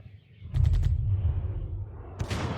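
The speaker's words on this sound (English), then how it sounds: "The coastal batteries are returning fire with all the effectiveness of a man throwing pebbles at a charging rhinoceros." Naval artillery fires explosive shells, a loud close blast followed by a long, rumbling low-end roar that fades slowly, then a second sharp burst near the end.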